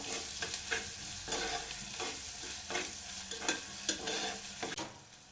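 Oil sizzles in a pan while soya chunks pulav cooks, a low steady frying hiss broken by irregular spatula scrapes and stirs, with no one talking.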